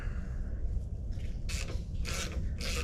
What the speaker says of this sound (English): I'll go ahead and get this timing gear off of this crank.